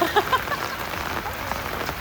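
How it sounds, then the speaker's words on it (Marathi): Outdoor rain falls in a steady, dense patter of drops on surfaces, continuous and fairly loud, with a brief voice-like sound at the very start. "कधी नाही ते पाऊस पडायला लागला"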